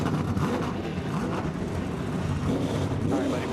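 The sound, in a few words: NASCAR race car engines starting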